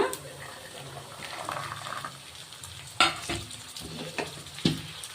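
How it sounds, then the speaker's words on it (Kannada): Fresh green peas and onions fry in oil with a soft, continuous sizzle, punctuated by a few sharp stirring knocks against the pan. "ಇವು ಸಹ ಒಂದು ಮೂರಿಂದ ನಾಲ್ಕು ನಿಮಿಷ ಚೆನ್ನಾಗಿ ಎಣ್ಣೆಯಲ್ಲಿ ಫ್ರೈ ಮಾಡ್ಕೋಬೇಕು"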